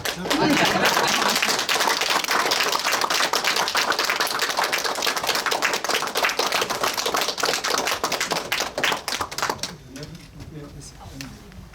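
Loud, sustained applause from a group at a Korean committee meeting, dense rapid clapping filling nearly ten seconds before cutting off abruptly into quieter room sound.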